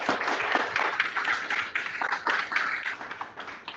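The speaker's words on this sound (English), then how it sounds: "Can we Yeah. give a nice big round of applause?" An audience applauds, a dense patter of many hands clapping together, moderately loud and continuous for a few seconds.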